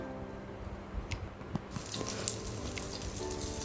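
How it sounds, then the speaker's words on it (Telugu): Oil with cumin, mustard seeds and chana dal sizzles steadily in a kadai, a continuous close frying hiss with small crackling pops that grows brighter partway through. "కొంచెం ఆయిల్, జీలకర్ర ఆవాలు, కొంచెం శనగపప్పు వేసేసుకొని ఫ్రై చేసేసుకుంటున్నాను"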